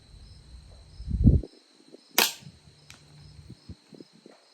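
A single quiet, sharp crack from a suppressed Ruger 10/22 firing subsonic .22 ammunition stands out once, close and brief, preceded by a low thud, with faint crickets in the background and no talking.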